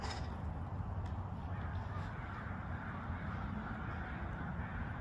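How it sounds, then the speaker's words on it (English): A large bird calls out on a farm, its harsh fowl-like cries heard faintly through a steady, loud rush of wind or outdoor noise. "What's that sound? The bird?"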